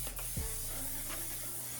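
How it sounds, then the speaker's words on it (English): Close, brief hiss of Patrick Star One Size On Till Dawn mattifying setting spray misted from a bottle, a short pressurized burst followed by quieter spray noise over steady low background hum. "is this the Patrick Star One Size On Till Dawn setting spray? The mattifying one, I would use that too."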